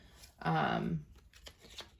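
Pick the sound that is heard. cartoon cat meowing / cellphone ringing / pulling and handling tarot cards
pulling and handling tarot cards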